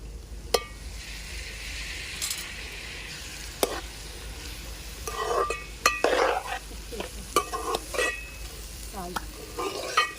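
Tomatoes fry and sizzle in a pan for a Telugu-style moong dal with tomato, with a steady close sizzle broken by repeated stirring scrapes and clinks of a spoon against the pan.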